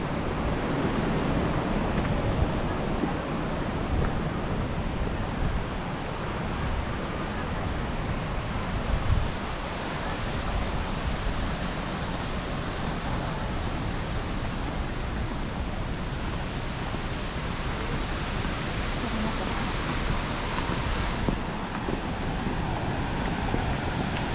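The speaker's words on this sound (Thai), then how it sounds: "จะมีลมพัดมาเย็นๆเลย" Steady outdoor wind rushing past the microphone in an open rural landscape, a broad constant hiss with gentle swells and no voices over it.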